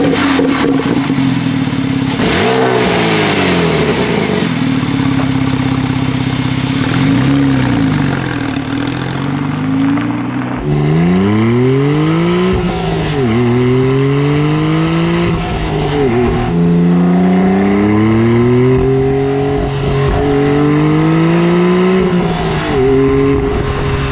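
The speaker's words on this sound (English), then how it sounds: "So then, how does the Porsche Carrera 911T drive?" Porsche 911 991 Carrera T with a manual gearbox driving and accelerating hard, its engine rising and falling through repeated revs and gear changes, loud and close, with no talking.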